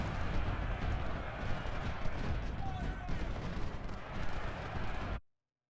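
Musket and artillery fire in the Ultimate General: Civil War strategy game, set at the First Battle of Bull Run: a dense, continuous crackle of distant volleys and rumbling shots with no pause until it cuts off abruptly.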